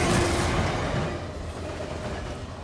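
A train rolls past in a movie scene, a steady rumbling rush with faint rail clatter that is loud at first and then eases off as it moves away.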